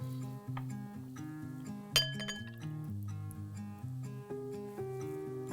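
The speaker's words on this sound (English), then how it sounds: "I'm gonna give this a good stir." Chili bean sauce, sugar and soy sauce are stirred in a bowl, with a spoon clinking and scraping against the glass in bright, repeated taps, loudest near the middle, over a steady background of music.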